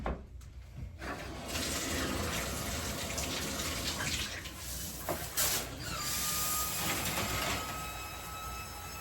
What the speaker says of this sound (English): I need to hop in the shower.